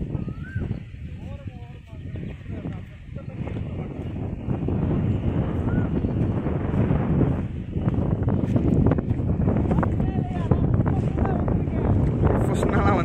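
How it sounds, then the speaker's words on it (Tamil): Strong wind buffets and roars continuously, rumbling loudly throughout, with voices talking faintly underneath the gusts. "காற்று தான் அடிக்குது."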